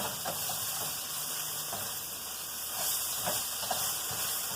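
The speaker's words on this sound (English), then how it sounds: "as the meat cooks down here in this cast iron skillet" Meat cooking down in a cast iron skillet gives a steady steamy hiss and sizzle, moderately loud, with faint occasional clicks and no talking.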